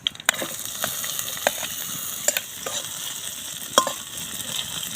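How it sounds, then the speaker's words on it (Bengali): Chopped onion frying in hot oil in a wok, a steady close sizzle broken by sharp clicks and scrapes of a spatula stirring against the metal. "পেঁয়াজটা অর্ধেক ভাজা ভাজা হয়ে গেছে"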